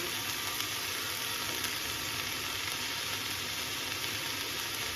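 Cauliflower stems frying in a pan for a charchari, a steady dense sizzle running without a break, with faint stirring scrapes mixed in close by.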